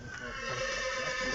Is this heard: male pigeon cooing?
no